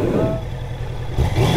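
Honda CBR 650F motorcycle engine revving close by, a mid-pitched roar that dips and then swells again, with talk alongside.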